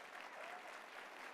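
Steady, even applause from a large audience at the CPAC conference, heard at a distance and fairly faint, with no individual claps standing out.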